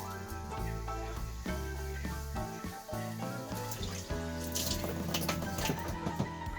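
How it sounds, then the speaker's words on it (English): Water runs steadily from a tap into a length of aquarium hose during a cichlid tank setup, a continuous splashing fill with gurgling bubbles toward the end. "I'm going to fill it with water."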